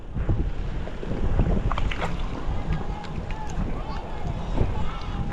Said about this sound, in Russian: О, какой ветер. Горячий ветер прям.